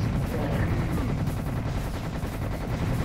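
Sustained assault rifle fire in Serious Sam rattles on without pause, loud rapid shots packed tightly together and heard alone.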